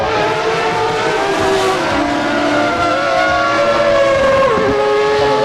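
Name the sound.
race cars driving past in Assetto Corsa video game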